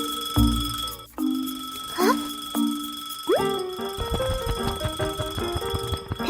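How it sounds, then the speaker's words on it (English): A cartoon alarm clock on a table rings loudly in sharp, repeated bell-like tones, followed by bouncy electronic notes of background music. "Suddenly, the clock starts ringing loudly."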